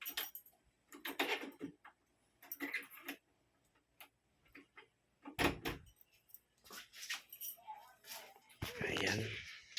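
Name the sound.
door being closed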